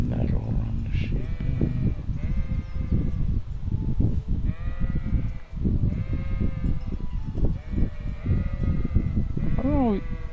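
Sheep bleat repeatedly, several animals calling in a close, loud and irregular chorus in the medieval video game Kingdom Come: Deliverance, with someone talking over the flock.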